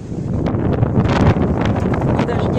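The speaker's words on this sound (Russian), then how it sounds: "Не метет, а ветер такой сильный дует со вчерашнего дня." Strong storm wind gusting steadily and buffeting close to the microphone, a loud continuous roar with rustling surges and no rain or snow.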